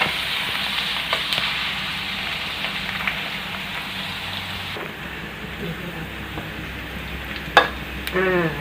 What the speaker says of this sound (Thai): แล้วก็เจียวให้มันเหลืองคะ่ะให้มันกรอบ เหลืองกรอบ